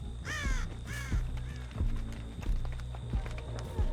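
Two harsh crow caws ring out early in a video game scene, followed by a steady low game ambience with scattered footstep-like thuds and a faint constant tone.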